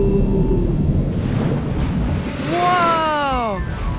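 A cartoon gray whale blasts air out of its blowhole in a long, loud, windy whoosh over the ocean surf, with a sweeping, rising-and-falling whistle-like tone near the end.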